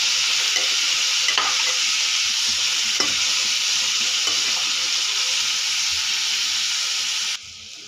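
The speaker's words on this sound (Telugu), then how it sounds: "ఈ ఒక 5 to 15 minutes వేపుకుంటే సరిపోతుంది" Boiled chickpeas stir-fried in a pan for a spicy snack, a loud steady hissing sizzle with periodic scraping strokes of a spatula, no speech, dropping away at the end.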